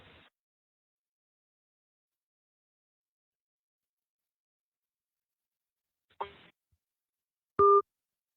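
Phone line cutting out on a radio call-in show: a brief burst of line noise, then after a long silence a short crackle and a clear two-tone electronic beep, like a dropped call or disconnect signal.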